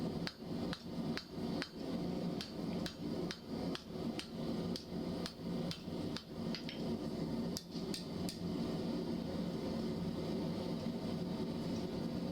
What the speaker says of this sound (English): I'm going to forge that down to a diameter smaller than one of the rods